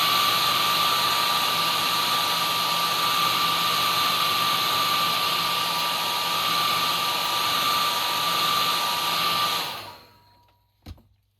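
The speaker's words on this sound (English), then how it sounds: "And then I've hit it with the hairdryer." A hair dryer blows steadily with a loud, even whine and rush of air for about nine seconds, drying paint on a model railroad tank car, then cuts off and spins down, followed by a brief click.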